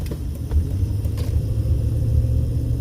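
Road traffic rolls along Las Vegas Boulevard near Town Square, a steady low rumble of passing cars heard from inside a moving vehicle, with no talking.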